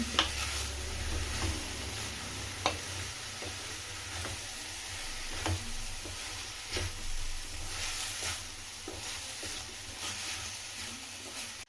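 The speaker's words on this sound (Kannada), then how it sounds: "ಬಾಳೆಕಾಯಿ ಹಾಕಿ ಈಗ ಚೆನ್ನಾಗಿ ನೋಡಿ ಈ ರೀತಿ ಮಿಕ್ಸ್ ಮಾಡ್ಕೊಳ್ತೀನಿ" Raw banana curry sizzles in a hot pan as it is stirred, with a steady frying hiss broken by soft scraping and occasional spoon taps against the pan, close and moderately quiet, with no talking.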